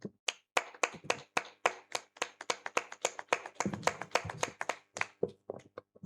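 A small gathering claps to acclaim the Lord at the end of a Bible week, with crisp, close handclaps in an uneven, lively rhythm and no voices.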